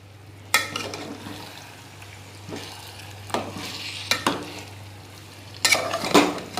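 A poppy seed and coconut paste for Hyderabadi chicken biryani is stirred and sautéed in a pan, with a low steady sizzle broken by intermittent spatula scrapes and metallic clanks, with no talking.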